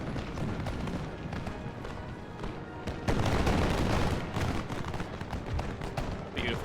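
Musket lines firing volleys in Total War: Empire, a dense crackle of many shots rolling together with a heavier surge partway through over battlefield rumble.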